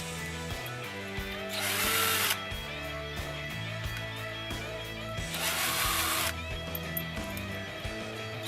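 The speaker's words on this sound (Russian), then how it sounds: "Далее берем сверло большего диаметра, в данном случае у меня 6, и делаем разинковку, чтобы не было острых краев." A 6 mm drill bit countersinking a small hole in a pendant: a power drill whines at steady pitch, rising in brief louder bursts as the bit bites, close and alone with no talk.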